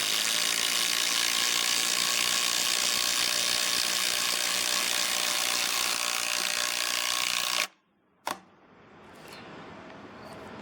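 Cordless 12V impact driver, brand-new DeWalt or Milwaukee M12, driving a 5-inch ledger bolt into timber: a loud, continuous rapid hammering rattle lasting several seconds close by, then stopping abruptly, followed by a short click and quiet handling noise.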